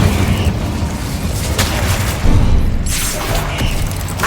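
An Incendio fire spell cast in the Hogwarts Legacy video game bursts out with a roaring whoosh and crackling flame, loud and layered over rumbling game effects, with sharper flares partway through.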